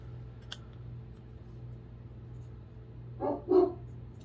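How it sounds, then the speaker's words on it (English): A pet dog barks twice from another room, faint and distant, after a quiet stretch with low background hum and a small click. "Sorry if you heard my dog barking."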